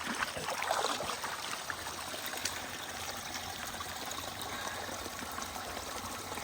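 Water trickles and burbles steadily over a thin, shaly sandstone layer during a desert flood, a soft, continuous, fairly faint flow with gentle splashing texture and no talk.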